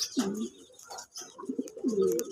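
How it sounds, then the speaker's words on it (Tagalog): A pigeon coos close by, two low throaty rolling calls separated by a short pause, with faint chirps in the background. "So ang ibon na to ay galing kay Sir Oliver Santiago ng Tramo Santa Rosa"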